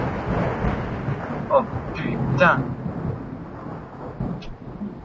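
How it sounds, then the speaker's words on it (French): A thunderstorm rumbles through a horror video game, with low rolling thunder swelling under a player's startled exclamation and a few sharp in-game sound effects. "Pète l'orage."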